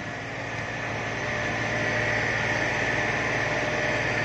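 A turbocharged tractor engine runs steadily, a dense, continuous rumbling drone with a broad hiss on top, close and loud, with no pauses and no voices.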